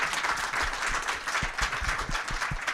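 Moderately faint audience applause from a conference crowd, a patter of scattered claps running steadily for a few seconds with no voices over it.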